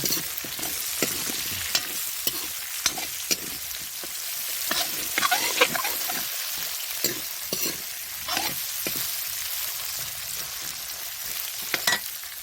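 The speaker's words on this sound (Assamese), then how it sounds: "এতিয়া আলুটো দি কিনে আৰু ফ্ৰাই কৰিম, মানে পুৰা ফ্ৰাইতে সিজাই পেলাম আমি মাংস আৰু আলুটো" Meat and potato pieces fry in oil in a pan, a continuous close sizzle broken by frequent scraping and clattering stirs.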